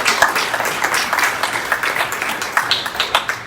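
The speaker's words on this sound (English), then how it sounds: "let's give Mr." Audience applause at an outdoor groundbreaking ceremony for a new park and ride facility in Petersburg, a steady wash of clapping from a crowd that holds fairly even for several seconds with no talk over it.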